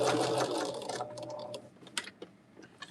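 A sewing machine runs briefly on a quilt block, a steady close hum that soon gives way to scattered light clicks and taps of fabric handling.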